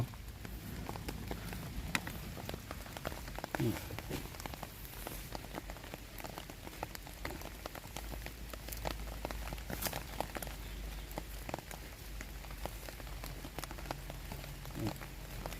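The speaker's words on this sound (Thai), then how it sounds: "ฝนตกนะครับท่านผู้ชมต้องกางร่ม" Steady rain falls around a mushroom patch during a harvest of termite mushrooms, a dense continuous patter with scattered sharper drop hits throughout, no talking.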